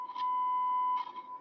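A handheld radio tuned to 433.475 emits a single steady electronic beep lasting about a second, clean and clear against light background hiss, with no talking.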